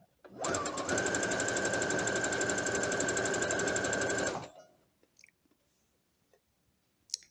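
A sewing machine stitches through thick blanket fabric in one continuous loud, rapid run of about four seconds, then stops, leaving faint handling clicks in near silence.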